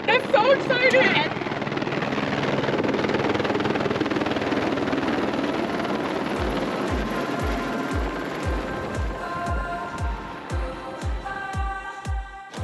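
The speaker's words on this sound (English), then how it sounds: "We're taking a helicopter tour out to a butte." A tour helicopter over Zion National Park whirs loudly and is joined by a steady rhythmic rotor chop that grows clearer toward the end, with excited voices talking over it early on.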